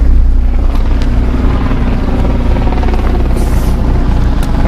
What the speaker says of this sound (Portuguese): Eu vou ligar o carro, terminar o vídeo com o barulho do motor.